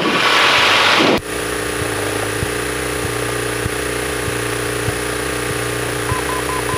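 An engine idling steadily after the throttle is eased up two notches, a loud constant drone with a faint regular ticking pulse and a steady high whine, following a brief burst of broadband noise at the start.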